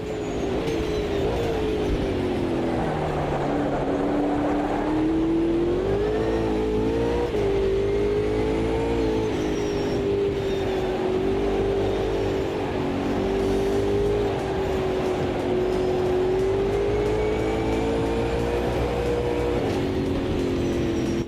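Ultima GTR race car in the racing game AMS2, driven in the wet at Road America: a loud, continuous engine drone holds steady with slow pitch swells as it revs, running alone and close throughout.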